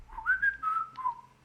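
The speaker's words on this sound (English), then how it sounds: "Don't whistle." A person whistles a short, bright tune of a few sliding notes close to the microphone, rising and falling in pitch across about a second and a half, with no talk over it.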